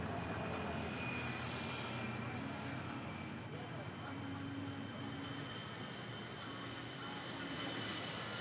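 A Philippine Airlines airliner takes off at Manila Airport with a steady, fairly distant engine roar and faint whine under a continuous broadband rumble, while a voice talks over it.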